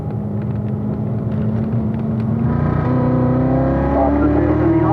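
A race car accelerating smoothly onto the front straightaway of a track, its steady, close engine drone climbing in pitch as it picks up speed, with a slight rumble underneath.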